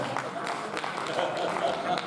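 An audience claps at a Hindi poetry recital (kavi sammelan), a brief burst of dense, steady applause with voices mixed in.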